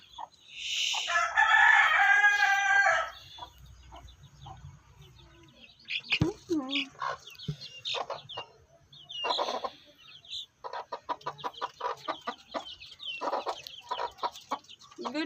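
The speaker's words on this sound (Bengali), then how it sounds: "এই দেখেন আমার মুরগিগুলো" Backyard chickens are heard up close: a loud rooster crow rings out first, followed by a steady stream of clucks and short calls from the flock.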